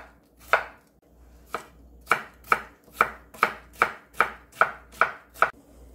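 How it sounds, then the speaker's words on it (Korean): A knife julienning a washed cucumber on a cutting board in close, sharp strokes. The pace speeds into a steady rhythm of about a dozen cuts. "깨끗하게 씻은 오이 하나 채썰어 줍니다."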